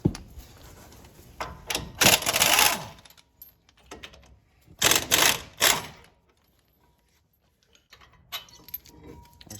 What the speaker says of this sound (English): let's take our 18mm socket and remove the 2 bolts that hold the caliper mounting bracket